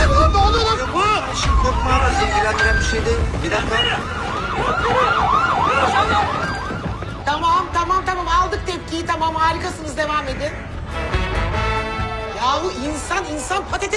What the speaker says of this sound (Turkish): Çalsın, çalsın sirenler. Sirenler çalsın.